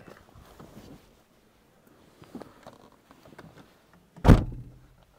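A car door on a 1988 Toyota Celica Cabriolet shuts with one loud, solid thunk after several seconds of quiet handling and faint rustling nearby.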